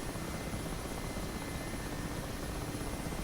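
A Mi-8 Hip helicopter flies in the DCS World flight simulator, producing a steady, dense rotor and turbine roar that stays constant and loud throughout.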